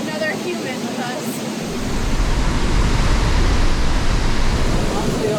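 A waterfall in Banos, Ecuador roars with a steady, dense rush of falling water, close and loud, swelling noticeably stronger partway through.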